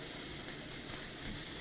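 A burger sizzles in a cast iron pan, a steady, even hiss and crackle with no talking over it.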